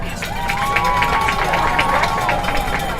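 At a high school football game on senior night, the stadium crowd claps and cheers for senior band members, a busy outdoor roar with distant claps, shouts and a sustained whistle-like tone.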